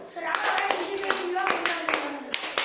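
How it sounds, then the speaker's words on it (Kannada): A class of fifth-grade children clapping in scattered, uneven claps, with a voice talking and singing over them throughout. "ಅದು ನೋಡಿ ಚಪ್ಪಾಳೆ ನೋಡ್ರಿ ಅವಂಗ"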